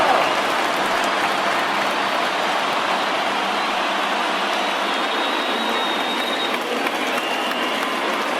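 Home crowd in MLB The Show 20 at a Yankees–Angels game fills the stadium with a steady, loud roar of cheering and applause that holds throughout without breaks.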